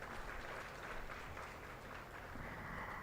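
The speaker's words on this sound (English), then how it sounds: "A big round of applause for the young talents" Audience at a Statistics Day celebration applauding young prize winners, a soft, steady wash of many hands clapping, distant and faint, continuous throughout.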